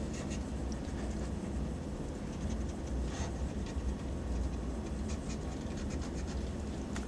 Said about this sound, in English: I'm going to erase this part out that I had before.